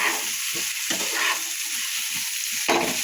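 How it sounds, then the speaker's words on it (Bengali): A spoon stirs and mixes fish in a frying pan, producing a continuous close sizzle with repeated scraping strokes and small clatters, no voices. "নাড়াচাড়া করে আমি মিক্সড করে নিলাম"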